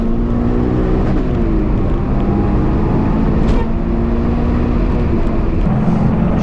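Mitsubishi Lancer Evolution V or VI engine pulling through the rev range on a road test drive, a loud continuous drone with rising harmonic tones, steady and close throughout.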